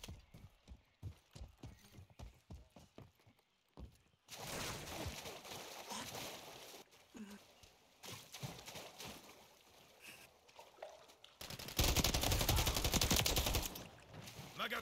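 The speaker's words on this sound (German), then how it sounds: "Stehe unter direktem Beschuss." Rapid bursts of automatic gunfire in a Call of Duty Modern Warfare 3 firefight, loud and dense, with a sharp run of close shots between quieter stretches of rhythmic clicks and scattered reports.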